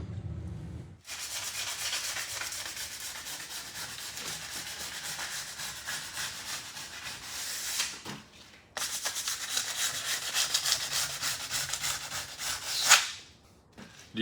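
Sanding across an expedition truck roof before sealing produces a steady, rasping scrub in long back-and-forth passes, close and loud, with a short pause midway and a brief sharp knock near the end.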